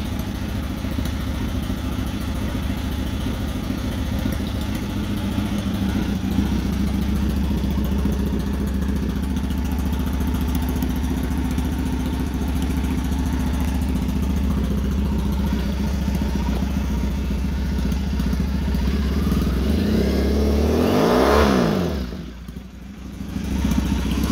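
A custom Triumph Thruxton cafe racer motorcycle idles with a deep, throaty exhaust rumble held steady and close, then briefly revs with a rising and falling burst near the end.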